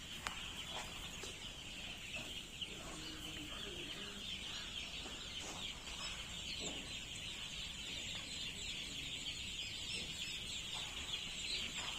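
A crowd of young chicks on a poultry farm brooding floor, with constant high cheeping and occasional clucks blending into a steady chorus at moderate distance.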